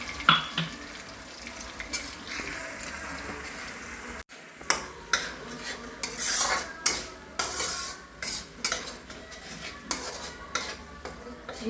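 Paste for a chicken fry is stirred in a hot pan with a metal utensil, giving repeated scraping clinks and light sizzling, with intermittent louder strokes and no talking.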